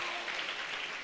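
Dense applause from a church congregation, a steady wash of many hands clapping at once, filling the short moment without pause.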